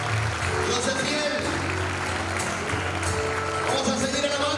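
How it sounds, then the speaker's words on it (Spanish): Congregation clapping during a church worship service, a steady dense wash of applause filling the room with a faint voice and musical tones underneath. "Démosle fuerte ese aplauso al Señor"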